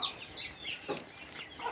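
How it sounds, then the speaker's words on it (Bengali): Free-roaming deshi chickens released outdoors cluck softly in a few scattered calls at moderate distance over quiet outdoor background. "এই যে দেখেন মুরগি মুরগিগুলো ছেড়ে দিছি বাইরে"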